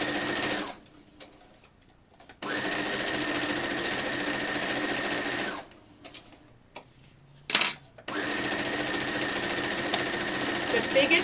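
A sewing machine stitches a t-shirt quilt in bursts of steady, fast whirring, stopping and starting across several runs with quiet pauses and small handling noises between, fairly loud and close.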